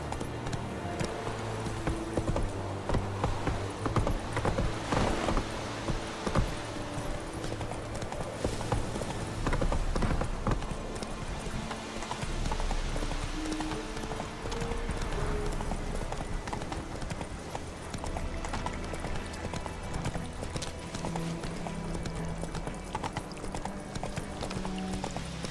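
Horse hooves clip-clop steadily while riding in The Witcher 3, a continuous trotting rhythm through the whole stretch, with faint voices and game sounds underneath.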